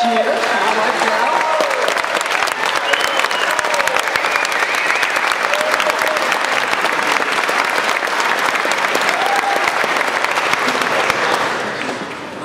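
A crowd at a college event gives sustained, loud applause as a speaker's wife is introduced, a dense continuous clapping mixed with some cheering that tapers slightly at the very end.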